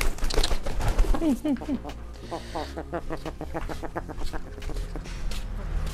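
A loud, repeated squawking bird call sounds in quick bursts, with people talking and background noise around it.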